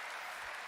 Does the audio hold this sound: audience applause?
yes